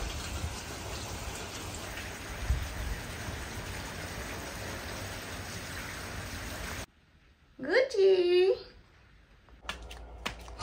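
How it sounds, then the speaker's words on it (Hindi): Dense, steady downpour of heavy rain for several seconds, then it cuts off to near quiet with a person speaking briefly. "इतनी तेज बारिश शुरू हो गई है"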